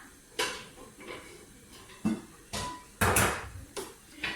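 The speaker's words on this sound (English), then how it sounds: "Sorry about the noises of pots and pans." Pots, pans and utensils clatter and knock in a home kitchen while a toddler's pear and parmigiano rice is prepared, with about seven separate clanks spread irregularly, close and moderately loud, with no talk.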